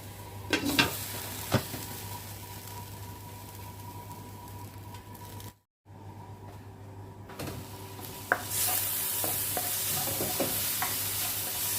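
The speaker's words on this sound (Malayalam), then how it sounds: "ഉള്ളിയെല്ലാം മൂത്ത് വരുന്നുണ്ട്" Onions fry steadily in a pan for a Kerala-style salmon curry, a continuous soft sizzle with occasional scraping stirs and clinks of a utensil, growing brighter and louder toward the end.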